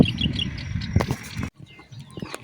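Homing pigeons arriving back at the loft after winter training, several bursts of wing flapping close by, followed by quieter fluttering and faint bird sounds.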